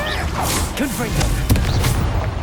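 A Confringo fire-blast spell is cast in Hogwarts Legacy amid combat, a burst of whooshing fire and thudding impacts layered over a low rumbling game soundscape, with voices briefly heard in the mix.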